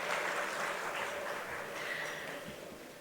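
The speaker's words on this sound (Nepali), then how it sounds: "एकचोटि फेरि पनि जोरदार ताली एन्टायर ग्यालेक्सी 4K टिमको लागि" Crowd applause at a launch event for the Galaxy 4K TV channel, a steady wash of clapping from a large audience that carries evenly through the whole stretch with no talk over it.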